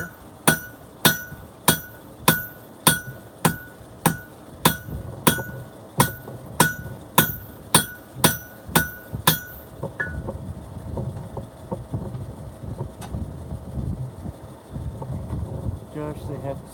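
A blacksmith's hammer rings on steel at the anvil while shaping a shoe-like piece, about seventeen sharp, evenly spaced strikes in a steady rhythm for ten seconds. Quieter shop noise and rustling follow.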